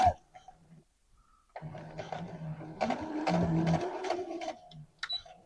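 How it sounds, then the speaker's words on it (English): A sewing machine runs a straight stitch along leggings over pins, a short whir starting after a pause and lasting about three seconds, fairly close and moderate, with a brief mechanical tap at the end. "I'm just sewing carefully over the pins"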